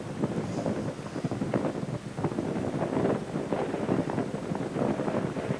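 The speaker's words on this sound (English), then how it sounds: "Isn't that beautiful? Wind." Wind blowing outdoors rushes steadily and fairly loudly across the microphone, with gusty swells and buffeting throughout and no voices.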